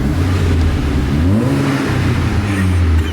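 A tuned VW Golf GTI revs up close and loud with rising, falling engine sweeps and crackling overrun bangs from the exhaust as the revs drop.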